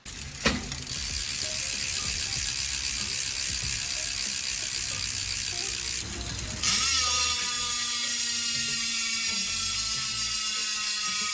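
A 60-point engagement bicycle rear hub ratchet buzzes in a rapid, continuous clicking whir as the wheel spins freely, loud and close, shifting pitch partway through.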